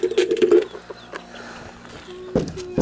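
Chickens clucking inside a backyard homestead coop, a few close, short bursts of hen calls at the start and again near the end, with quieter rustling in between and no talk.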